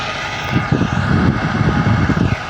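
A tractor engine revs at full throttle while working a field after a flood, giving a loud, close, throbbing roar that pulses unevenly as it swells and eases.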